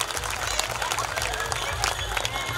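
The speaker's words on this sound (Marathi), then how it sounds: "टाळ्या वाजू द्या जोरदार यांच्यासाठी." An audience at a Buddhist community event applauds in a dense, continuous wash of clapping from a crowd, with voices mixed into the background.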